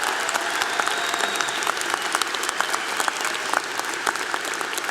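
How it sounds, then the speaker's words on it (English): Graduation-day crowd clapping at a university commencement ceremony, a steady, moderately loud wash of many hands with sharp individual claps standing out, no voices over it. "Let's have a round of applause for them as well."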